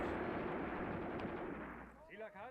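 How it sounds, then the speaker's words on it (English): Sustained rattle of small-arms gunfire from a World War II tactical battle in the Graviteam Tactics: Mius Front video game, dense and continuous for about two seconds before thinning out, with a brief voice-like sound near the end. "they're shooting off round after round at them"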